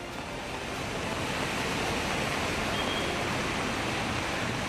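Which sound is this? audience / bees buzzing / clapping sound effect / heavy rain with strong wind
heavy rain with strong wind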